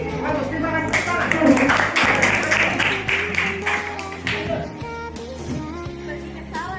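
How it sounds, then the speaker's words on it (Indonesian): A school class claps together: dense, fast applause that starts loud and then thins into scattered claps, with voices and background sound underneath. "Tepuk tangan."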